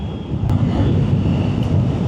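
Steady wind buffets the microphone on a dark, windy night outdoors beside a Triumph Tiger 900 Rally motorcycle, a continuous low rumbling roar with no talk.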